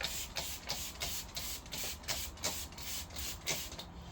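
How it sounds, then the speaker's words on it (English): Rhythmic short hisses of cleaning liquid sprayed from a trigger bottle onto a car window of a VW Golf before tinting, repeating steadily at close range with no talk. "Spray it all over the place."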